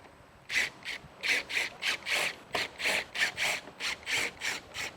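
A tool undoing 7mm bolts on the front fascia of a 2024 Mustang GT makes a close run of quick, evenly spaced rasping strokes, about a dozen in a row, with no talking.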